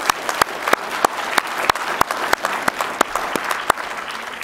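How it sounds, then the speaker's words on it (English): Applause from the audience at a drug court graduation ceremony, a steady patter of many hands with sharp individual claps standing out throughout, moderately loud and close, with no talking over it. "So again, I want to applaud everybody who is here for graduation."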